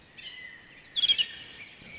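High, thin calls of water birds at a forest pond ring out from nearby, a few sharp chirps clustered in the middle over a quiet outdoor background.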